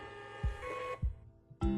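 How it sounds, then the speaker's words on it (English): A DYMO label printer prints a label, with a soft motor whir punctuated by three quick mechanical clicks or thunks, close and quiet. "and your label will print"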